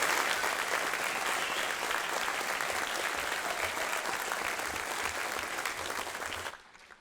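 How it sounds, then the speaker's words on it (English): A large crowd at a fire academy graduation applauds continuously and loudly for several seconds, then the clapping quickly dies away at the end. "one more round of applause for all our graduates"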